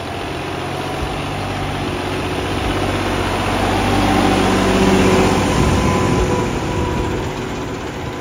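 A CRD5620 tractor engine runs at a steady idle, a loud, low diesel throb with a slight swell in the middle, and no voices over it.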